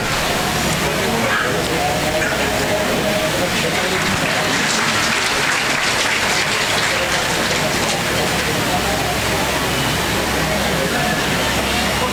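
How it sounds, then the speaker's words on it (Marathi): An audience at a public function with a local MLA present claps steadily for a guest. The dense, continuous applause is loud and close and lasts throughout, with faint voices underneath. "शामरावजीसाठी तरी टाळ्या वाजवा ना."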